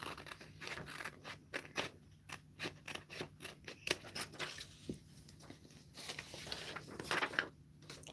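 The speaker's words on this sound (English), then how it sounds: "Then I want you to unfold and just cut, just so you get to A5 sheets." Scissors cut through paper to make A5 sheets, with quick repeated snips in a steady close rhythm and short pauses between runs, all fairly quiet.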